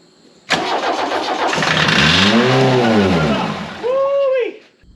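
Old Volkswagen Rabbit diesel, left parked for 26 years, cranks briefly before firing into a rough, loud run that swells in revs, then drops with a short blip and dies away near the end.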